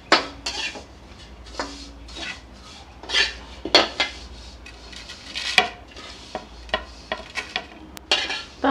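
Roasted vermicelli scraped and scooped from a metal kadhai onto a plate, with a run of close clinks, scrapes and utensil taps against the pan in an irregular rhythm, a faint sizzle underneath.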